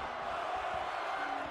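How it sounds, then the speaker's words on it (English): A wrestling-arena crowd in the WWE 2K22 video game chants and roars at a distance, a steady, fairly faint wash of massed voices with no clear individual words. "But the crowd are chanting one more time"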